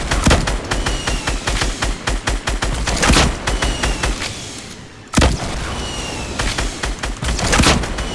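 Rapid, loud gunfire from a shooter video game, bursts of overlapping shots crackling almost continuously, with a brief lull before another sharp volley resumes.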